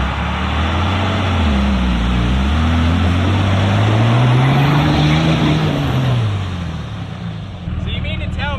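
A Ram 5500 dually truck on 35-inch tires pulling itself out of a dug hole in two-wheel drive, its loud engine revving up and down continuously, with a short pause near the end.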